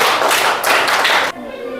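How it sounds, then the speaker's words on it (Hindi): Loud classroom clapping for a student in a Hindi spelling lesson, a dense burst of many hands lasting about a second before it cuts off abruptly, leaving a faint tail. "इनके लिए एक जोरदार ताली होना"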